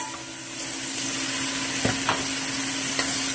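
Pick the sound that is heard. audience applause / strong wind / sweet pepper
sweet pepper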